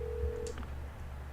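Telephone dialing in the Parasite Eve 2 video game: a short run of touch-tone beeps over a steady low game hum, followed by a few faint electronic blips.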